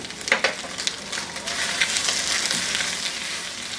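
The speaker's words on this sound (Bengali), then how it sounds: "এর মধ্যে দিয়ে দেবো রসুনের কুচিগুলা দিয়ে এর সাথে এক মিনিটের মতো একটু ভেজে নিব" Beef with chopped garlic frying in a pan, a continuous close sizzle with a few sharp spattering pops near the start and no talking.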